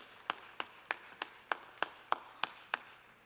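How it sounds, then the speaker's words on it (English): Evenly spaced single claps, about nine in a steady rhythm roughly three per second, quiet and somewhat distant, for a corporate quiz grand finale finalist on stage. "Please give him a huge round of applause"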